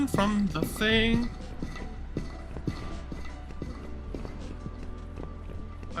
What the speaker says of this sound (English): The Shadow Fredbear footsteps?